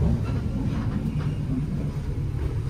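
Executive train with 1964-built coaches running at speed past a local Walahar train bound for Cikarang, a steady, dense low rumble of wheels and carriages throughout, loud and close with no voices.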